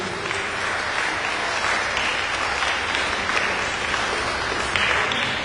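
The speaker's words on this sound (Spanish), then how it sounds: "le damos un aplauso a Pedro y Rocío" Applause for a bride and groom at a wedding ceremony, a dense, steady wash of many hands clapping that holds evenly for several seconds.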